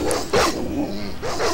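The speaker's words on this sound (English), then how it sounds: "We gloriously. spotted a pack of wild dogs." Wild dogs from a pack in Baldur's Gate bark in two loud, close bursts about a second apart, over a steady game ambience.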